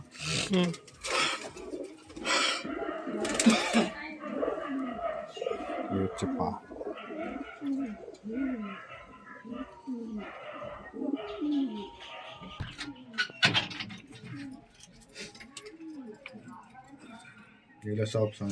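Pigeons coo in a loft of old paired birds, soft repeated calls scattered across the scene and mixed with clicks and rustles while someone talks steadily over them.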